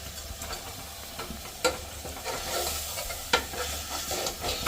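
Goat liver stirred and frying in oily masala in a pan, a continuous crackling sizzle with repeated scraping strokes and a few sharp clanks of the spoon against the vessel.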